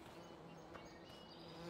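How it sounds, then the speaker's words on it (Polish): Faint, continuous buzzing of bees droning softly in the background in the video game Farming Simulator 15, with no speech. "Słyszę pszczoły."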